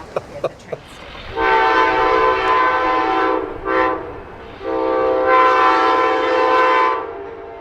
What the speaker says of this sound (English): the shores of San Pablo Bay, my friend Marty catches the train as it runs by.